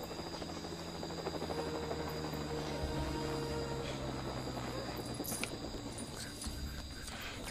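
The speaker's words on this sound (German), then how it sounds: "Helikopter!" Helicopter in the video game LEGO Jurassic World, a steady whirring rotor drone with a thin buzzing hum that holds at an even level throughout and is heard alone, without talk.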